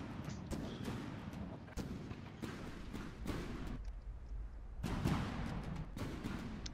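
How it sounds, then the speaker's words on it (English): Ship cannons fire shells in the naval combat video game From The Depths: a rapid irregular series of loud, sharp booms, roughly eight blasts, each with a short rumbling tail. "The afflicted cannon barrels have finally unloaded with the desired shell type in the midst of choking black smoke from the primary cannon."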